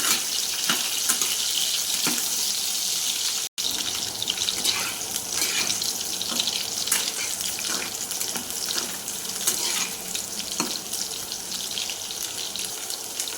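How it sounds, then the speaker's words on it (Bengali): Drumstick pieces and carrots frying in oil produce a continuous, loud sputtering hiss with scattered sharp pops, close and unbroken apart from one brief dropout, with no talking. "আর সজনে ডাঁটা। এগুলোকে ভালো করে ভেজে নেব।"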